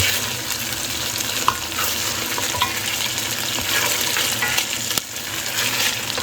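Beef browning in a pot for jollof rice, a steady close-up sizzle that runs throughout with a few sharp clicks from a utensil against the pot, and no talking.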